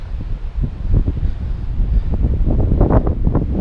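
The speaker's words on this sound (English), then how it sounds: "That wind is bitter, isn't it?" Cold wind blows hard across an open beach headland, a loud, continuous buffeting rumble that gusts unevenly throughout with no voices.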